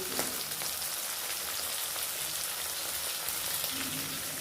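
Green chillies sauté in a pan for Tirunelveli-style tamarind chilli thokku, giving a soft, steady, hissing sizzle that runs unbroken and fairly quiet with no voices over it.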